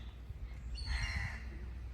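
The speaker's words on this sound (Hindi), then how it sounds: "ये जो परिंदों की आवाज़ें हैं ना, इतनी सूदिंग होती हैं कि खुश हो जाता है दिल।" Birds call outdoors on a calm morning, with one faint caw-like call standing out briefly over a low rumbling background.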